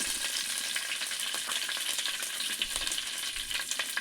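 Mustard seeds, curry leaves and garlic sizzle in hot coconut oil, a steady dense crackle with scattered sharper pops, close and fairly loud throughout, with no talking.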